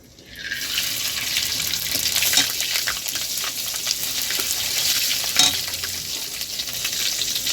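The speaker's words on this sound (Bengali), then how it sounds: "শুক্তোর জন্য আমি ফোড়নে 5 ফোড়ন দিয়ে দিচ্ছি।" Dry red chillies, a bay leaf and five-spice tempering spluttering in hot oil for a Bengali shukto, a steady close sizzle with faint stirring scrapes and a couple of sharp pops.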